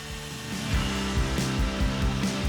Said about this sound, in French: je viens de finir de scier la coupe de la scie circulaire de table avec la scie sauteuse